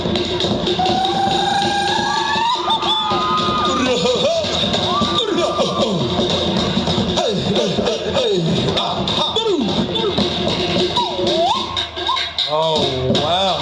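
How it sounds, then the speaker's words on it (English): A crowd cheers and applauds at a dance performance during the 2021 Teuila festival in Samoa. The sound is loud and continuous, with whoops and shouts, and a voice talks over it throughout. "How about another bigger round of applause?"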